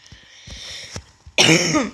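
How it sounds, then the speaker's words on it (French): A few short coughs and throat-clearing sounds close to the mic from a sick man, ending in a louder, harsher cough burst. "Excusez-moi, je tousse, je suis malade."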